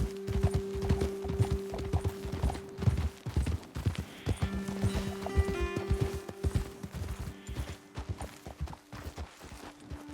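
Horse hooves pound in a rapid galloping clip-clop rhythm in the video game Red Dead Redemption 2, close and steady over a low background tone, with faint jingling tack.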